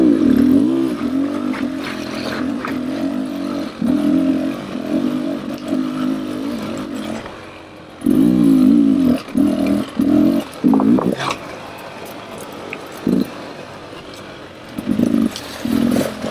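Two-stroke dirt bikes, a 2024 Beta 300 RR Race Edition and a 2024 KTM 300 XCW, ride on an off-road trail: close engines rev and bark in repeated bursts, dropping and rising as riders work the throttle.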